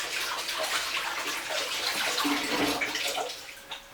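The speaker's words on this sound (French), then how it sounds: "on se lave les mains" Hands are washed under a running kitchen tap while preparing pork dim sum, a soft, steady splash of water close by that continues throughout without a break.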